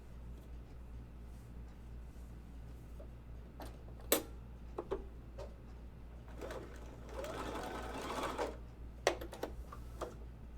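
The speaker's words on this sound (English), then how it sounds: "I'm gonna just sew this little spot here" Sewing machine stitching a small spot on women's underwear, a faint, close burst of rapid mechanical stitching with scattered clicks and taps in a quiet room.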